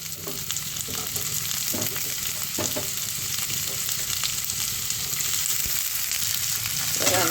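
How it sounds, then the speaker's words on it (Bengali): Potatoes fry in a hot pan for a spicy Bengali breakfast dish, a loud continuous sizzle with stirring scrapes and clinks running throughout, close up and without any voices. "এবার আলুটাকে ভেজে নেব।"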